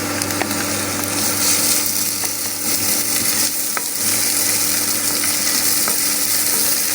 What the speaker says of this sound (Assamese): আদা নহৰুখিনি ভাজি হৈ গৈছে